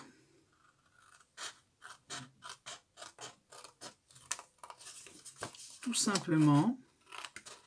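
Scissors cutting fabric along a fold line in a series of quiet, rhythmic snips, then a louder, longer run of cuts near the end, with someone speaking briefly over them.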